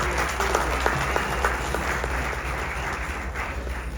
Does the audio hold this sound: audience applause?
yes